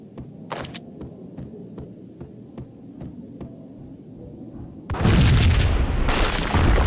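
Explosion boom in the Max Payne video game: a low throbbing rumble with regular soft thumps, then a sudden loud, close blast that lingers as a roaring wash to the end.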